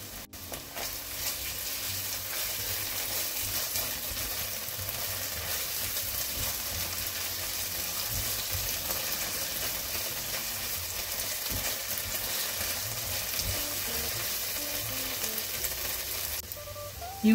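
A Spanish sofrito with a spoonful of tomato paste sizzles and fries steadily in a pan, with continuous crackle and occasional stirring scrapes, close and even.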